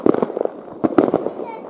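Outdoor New Year 2018 fireworks: a rapid series of sharp, nearby bangs and crackles comes in bursts, mixed with people talking, including a voice.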